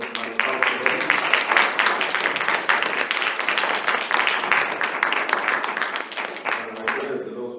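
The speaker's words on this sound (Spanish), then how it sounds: "Me gustaría que le brindáramos un fuerte aplauso" An audience at a university lecture applauds, producing steady, fairly close clapping with many individual claps audible, lasting several seconds before fading out.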